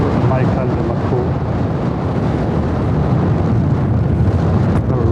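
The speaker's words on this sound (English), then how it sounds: "I don't even know if you'll be able to hear me, it's so windy." Strong wind buffets the microphone on a rugged coastal path near Durness, a loud, continuous roaring rumble that never lets up.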